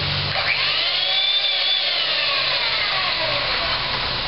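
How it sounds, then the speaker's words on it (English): An electric kitchen mixer runs with a steady high motor whine whose pitch swoops up and down as it works, loud and close, with no talking. "a mixer"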